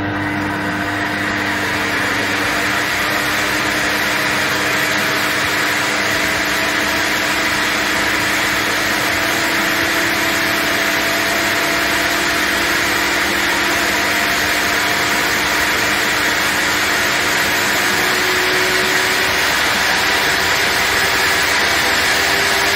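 A table saw spins up to full speed in a workshop, about to cut MDF; a steady, loud motor whine with a constant high tone holds for the whole stretch, no talking.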